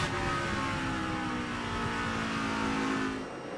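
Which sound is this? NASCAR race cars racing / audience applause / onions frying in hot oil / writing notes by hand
NASCAR race cars racing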